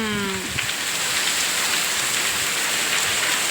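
Heavy, steady rain pours down outdoors in a continuous dense hiss that fills the whole stretch, with a brief low hum fading out at the start.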